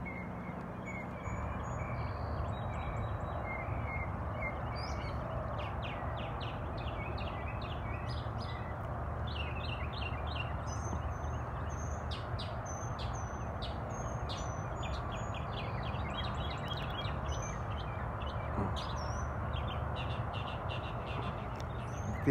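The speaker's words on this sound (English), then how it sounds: "Keep a moment to listen to the bird" Outdoor birds, including crow-like caws and scattered chirps, call repeatedly over a steady low background rumble, fairly distant and soft throughout.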